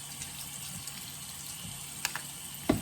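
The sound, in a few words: water rinsing off Cyspera cleanser mask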